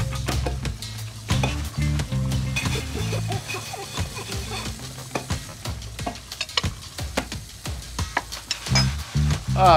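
A large pile of dishes is washed in a fire department kitchen: frequent clinks and clatters of plates and cutlery, with splashing and scrubbing, rise over a steady, hissing wash of running water.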